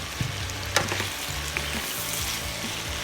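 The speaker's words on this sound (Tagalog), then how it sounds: "Then, ilalagay na natin yung pork heart. Then, isusunod ko na yung ating liver at pinagsamang lungs." Pork heart, liver and lungs fry with garlic and onion in a pan for bopis, giving a steady close sizzle with occasional stirring clatter and no talking.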